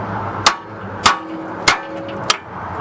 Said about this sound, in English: So what we're going to do is take a pickle fork. We're going to hit it, try to break it loose.